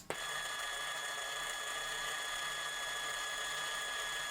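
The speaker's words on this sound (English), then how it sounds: "We're going to be able to drill that with ease" Small power drill boring out the rivet post on the base of a Hot Wheels Redline Paddy Wagon die-cast car, a steady high-pitched whine running continuously at close range with no talk.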